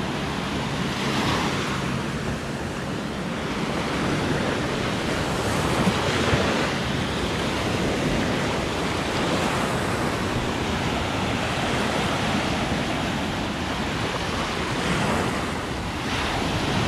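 Ocean waves wash steadily onto a beach in Cancun, a continuous loud surf roar with wind buffeting the microphone throughout.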